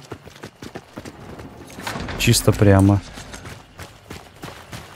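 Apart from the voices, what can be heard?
horse hooves in the video game Hunt: Showdown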